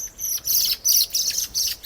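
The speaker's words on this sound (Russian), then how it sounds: "птичья драка в эфире." Birds squabble and chirp in a summer garden: sharp, high, rapid tweets come in several agitated bursts, fairly close and loud, with no voices.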